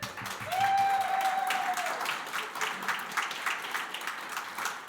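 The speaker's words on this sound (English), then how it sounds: "Give them a round of applause, everyone." Audience applause at a college graduation ceremony in a hall, sustained crowd clapping that swells early and holds steady throughout, with a brief tonal sound near the start.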